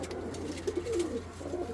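Pigeons in a pigeon loft give a few soft, low coos, faint and close, against a quiet hum.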